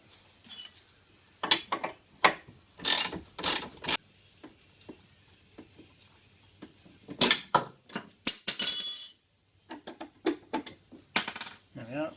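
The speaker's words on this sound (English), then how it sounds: "Now we can put our ratchet on it." A ratchet loosens a front control arm bolt on a Subaru, heard as sharp, close clicking bursts separated by pauses and scattered metallic clatter.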